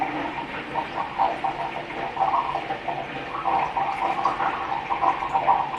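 Film developer liquid poured into a developing tank at home, a steady splashing gurgle lasting several seconds with no talking.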